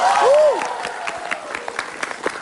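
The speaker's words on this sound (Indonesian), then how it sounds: "Tepuk tangan dulu dong." Studio audience on a television game show claps after a short vocal or whistle-like sweep at the start, a scattered, moderately loud round of applause that thins toward the end.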